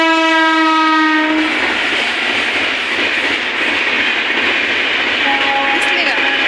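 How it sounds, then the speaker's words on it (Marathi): A passenger train heading to Pune sounds a long, loud horn blast. It then rumbles and clatters heavily across a bridge close by, and a second, shorter horn note sounds near the end over the continuous roar. "तर तुम्हाला चला रेल्वे दाखवते हो का. आता त्या पुलावून जाईल बघा."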